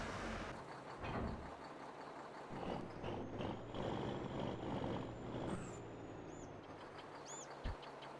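A Kenworth truck in a farming game rumbles steadily, then gives a sharp hiss of air brakes near the end, amid faint chirps and a brief thump; no talking.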